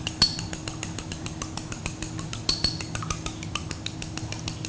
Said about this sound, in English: after we actually crack both eggs, we're going to actually beat it up a little bit